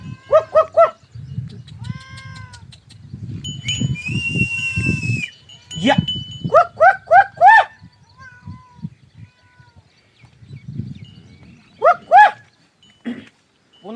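A dog barks in short sharp bursts, several quick barks in a row, separated by quieter rustling and low background noise.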